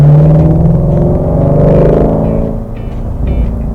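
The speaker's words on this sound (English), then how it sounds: "Let's flip it back into sport mode. You've got a sound that is muscle car." A 2017 Ford Mustang GT350 with a flat-plane V8 rumbles loudly up close in sport mode, its deep engine note swelling and easing slightly as revs change, with no talk over it.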